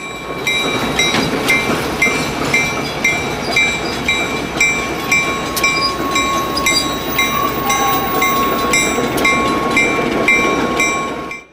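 Santa Fe PA diesel locomotives, units 58 and 67, back onto their excursion train at Richmond in 1968, a steady rolling rumble with clanking rail joints and squeals, moderately near and continuous.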